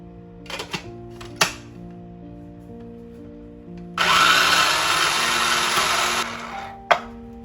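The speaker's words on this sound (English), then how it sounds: "add them to the food processor, which will help finely chop them down" A food processor chopping bok choy stems, with a few clicks and knocks, then a loud steady whirring burst of about two seconds close by, and a final clunk.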